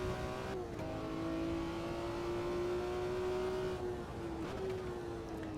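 A BMW race car engine in Automobilista 2 on the Nürburgring Südschleife drones steadily and loudly throughout, its pitch climbing slowly, easing, and dipping briefly near the end as the car holds a cautious pace.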